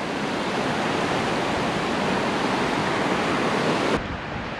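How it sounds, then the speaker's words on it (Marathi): Forest stream water rushing over rocks in a dense valley during the rainy season, a loud, continuous broadband roar heard close by that holds steady before dropping slightly in level near the end. "पाण्याचा खळखळाट, पाण्यात जाण्याची खूप इच्छा आहे"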